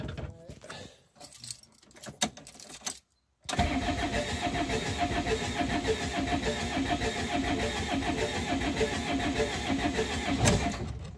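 A camper van engine is cranked and starts, with a brief clatter and jingling before a short pause, then catches and runs steadily and loudly at a near idle for the rest of the time.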